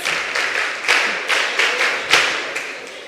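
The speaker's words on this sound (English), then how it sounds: "Come on, let's give a round of applause." A seated audience at a mentorship session claps, a moderate burst of applause that swells and dips in uneven waves throughout, close and fairly loud with no speech over it.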